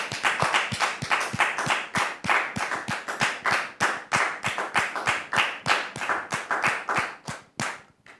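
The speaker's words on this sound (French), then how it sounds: "sur vos applaudissements, très cher public." Studio audience applause heard as rhythmic, synchronized clapping in steady beats, fairly close and loud, with no talking over it and a slight slowdown at the end.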